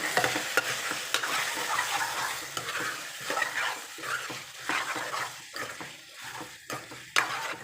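Fenugreek-leaf chicken frying in oil is stirred in a pan, with irregular scraping clacks of the spoon against the metal over a low, steady sizzle, the strokes close and fairly sharp.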